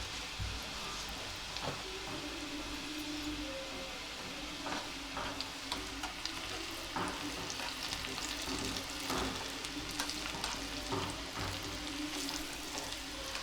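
Garlic fries in a pan for a dal and spinach dish, a soft steady sizzle with occasional stirring clinks and scrapes, close but fairly quiet, with no one talking.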